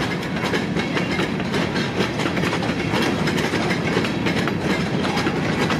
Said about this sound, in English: holy man, is this train long or what?